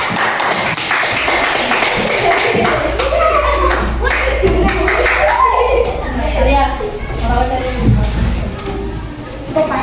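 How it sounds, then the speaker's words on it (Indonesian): Primary school classroom applause for a student, children clapping in a ragged rhythm with taps and thumps on desks, mixed with lively kids' chatter and voices throughout. "Boleh dikasih tepuk tangan."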